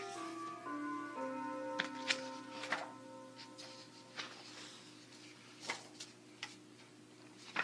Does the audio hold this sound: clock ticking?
yes